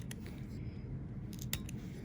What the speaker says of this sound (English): Now I'm going to take my tip cutter and we're just going to cut these down just a little bit